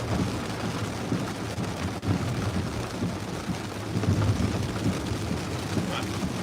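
Heavy rain pours down outdoors at night during a tornado-warning storm in Saline County. It makes a dense, steady roar throughout, with wind buffeting the microphone.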